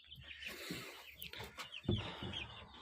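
Small chicks peep and cheep close by, several high calls overlapping in quick, irregular bursts with a few lower clucks.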